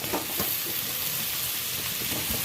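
Steady oily sizzling of okra and potatoes frying in a pan, continuous crackle and hiss with faint scraping clinks, no voices.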